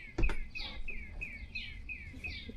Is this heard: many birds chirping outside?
yes